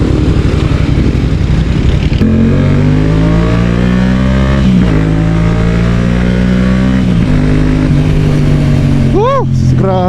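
A Yamaha XSR700 motorcycle fitted with a booster plug and aftermarket air filter drones loudly and close, its engine pitch rising and falling through revs, with someone talking over it.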